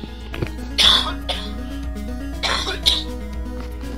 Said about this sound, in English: And I have to cough.